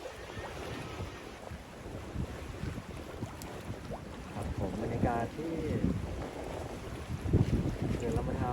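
Strong wind roars over the microphone at a dam reservoir in Chaiyaphum, a continuous low buffeting with lapping water behind it, while someone speaks briefly over it.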